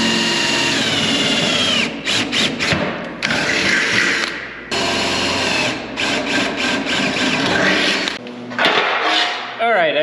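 A power drill bores into the body panel of a 1930 Dodge truck, whining loudly in repeated bursts with brief stops between them, close up and dominating the scene.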